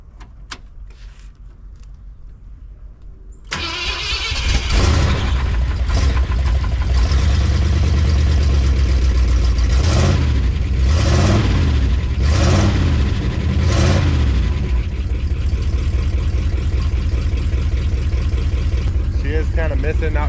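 A 1974 truck engine starts and runs loud and close, idling slightly roughly with an uneven miss and a few swells in revs, under a steady rumble; a voice is faintly heard in the background.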